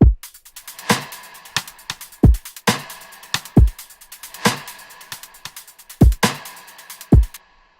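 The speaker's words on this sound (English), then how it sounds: "Drums sound like this." Programmed electronic drum beat from a produced track: deep kicks and crisp snare-like hits in a steady looping pattern, loud and dry with no other instruments.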